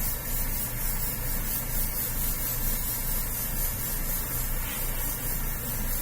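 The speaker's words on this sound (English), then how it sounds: "I'm going to mist this on." An airbrush mists yellow paint onto a Batman figure, a continuous close hissing spray with faint hum underneath, steady and uninterrupted with no talking.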